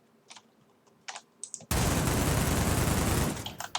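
A Vector gun in Minecraft's Flan's Mod fires a loud, sustained burst of rapid automatic shots lasting about a second and a half, after a few scattered clicks, with no voices.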